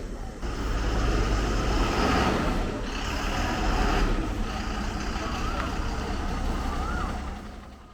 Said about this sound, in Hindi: ये ड्राइवर बढ़िया नहीं है, इससे बैक गाड़ी नहीं हो रही।